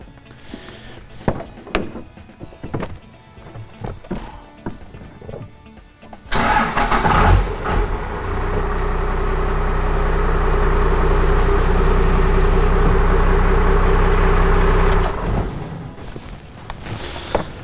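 A 12-valve Dodge diesel truck engine with a P7100 injection pump and a newly fitted BD Diesel fuel shutoff solenoid starts up. Clicks and shop noise come first, then the engine cranks and fires into a loud, steady idle that runs for several seconds before dying down.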